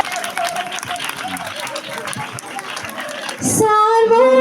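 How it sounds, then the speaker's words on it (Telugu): Audience applause after a Christmas nativity play, a short burst of crowd clapping that follows a stretch of amplified talking, with a bright musical tone rising at the end. "చప్పట్లు పెడదాం"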